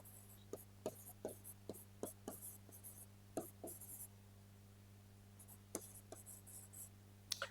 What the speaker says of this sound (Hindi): हम लिखते हैं पहला स्टेटमेंट